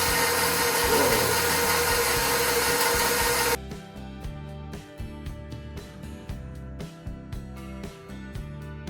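An electric stand mixer churns pizza dough and flour with a steady motor whine that is loud and broadband at first, then drops to a lower, lumpy hum with rhythmic knocks as the dough turns.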